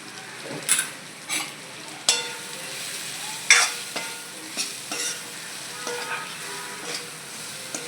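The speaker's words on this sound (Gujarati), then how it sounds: "હવે આપણે બધા મસાલા હલાવી દઈશું" Spices are stirred into spiny gourd sabzi frying in a pan, with repeated scraping strokes of a spoon over a low steady sizzle, each stir a distinct sharp scrape at irregular intervals, no voices.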